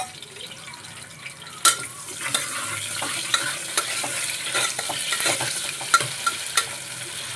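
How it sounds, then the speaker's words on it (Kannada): Onions sizzle in a pan as a spoon stirs them, scraping and knocking against the metal in irregular strokes over a constant hiss, heard up close without speech. "ಹಾಗೆ ಉಳ್ಳಾಗಡ್ಡಿ ಹಾಕ್ಕೊತೀನಿ, ಈರುಳ್ಳಿ. ಇದಕ್ಕೆ ಸ್ವಲ್ಪ ಫ್ರೈ ಮಾಡ್ಕೊಂಡು"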